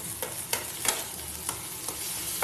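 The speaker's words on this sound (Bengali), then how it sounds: "একটু ভাজা ভাজা হচ্ছে" Prawn chops fry in a pan over a low gas flame, a steady close sizzle broken by a few sharp scraping taps of stirring at irregular intervals.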